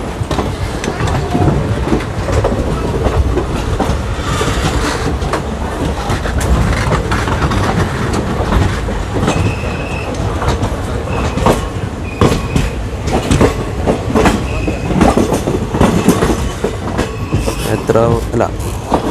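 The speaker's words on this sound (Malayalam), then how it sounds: "ഏർനാട് എക്സ്പ്രസ് പോയി" The Ernad Express runs past on the Mangaluru line: steady loud rumble and wheel clatter throughout, with repeated faint squeals and a voice speaking over it.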